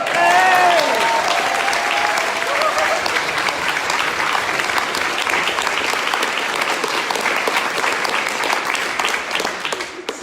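A large festival crowd at a political speech breaks into loud, sustained applause with scattered cheers and whistles. The dense clapping holds steady throughout, with a brief whoop near the start.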